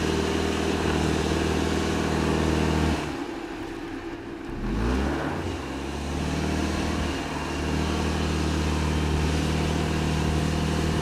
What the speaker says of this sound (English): The engine sound could be heard well,